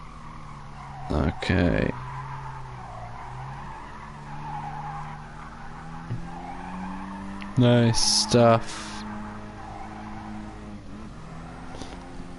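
A Group B rallycross car in Gran Turismo Sport spins its wheels, and its tyres screech in two short bursts over a steady engine drone while someone talks over the gameplay.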